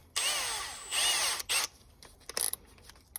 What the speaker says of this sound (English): Now I'm swapping to a 3mm drill bit